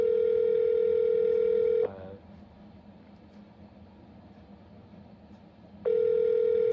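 A landline telephone dialing a number: a steady loud tone cuts off, a few seconds of quiet line hiss follow, then the tone returns, with no voices.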